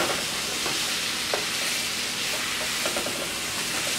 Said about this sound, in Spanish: Ahora lo que voy a hacer es que voy a agregar el chile morrón rojo. Mire, voy a sofreír.